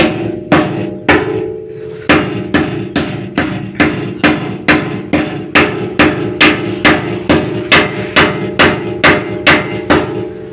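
Repeated hammer blows knock slag off a fresh weld, a steady rhythm of sharp metallic strikes, roughly two per second, close and loud throughout.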